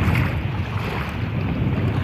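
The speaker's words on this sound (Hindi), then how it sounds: "लोग देख रहे हो तो इस समुद्र को, तेज लहरों तेज तूफानों के साथ" Rough sea off Qatar with big waves and a strong wind, heard as a dense, loud roar of surf and buffeting gusts with no talking.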